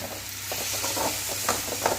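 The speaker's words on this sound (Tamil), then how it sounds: "தக்காளி நல்லா வதங்கி வரட்டும்." Chopped medium-size tomatoes sauté in a pan for a Chettinad bitter gourd tamarind curry, giving a soft steady sizzle with light stirring scrapes.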